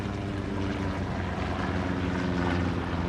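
A recon plane flies in a tactical war video game, a steady loud droning engine hum with layered low tones, continuous throughout with no talk.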